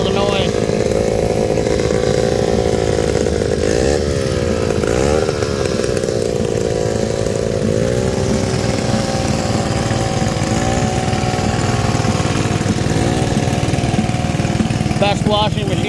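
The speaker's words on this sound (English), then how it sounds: "That little engine right there is making all the noise." A small antique hit-and-miss engine runs at a tractor show, its steady loud chugging engine noise filling the whole stretch with continuous mechanical drone under crowd murmur and voices.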